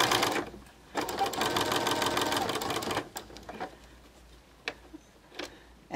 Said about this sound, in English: stitch in the ditch for doing machine quilting